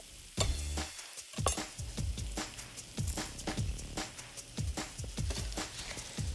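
Ground meat and sausage fry with shallot in a hot pan, crackling and sizzling loudly, with repeated sharp scrapes and stirring knocks at an uneven rhythm and no talking.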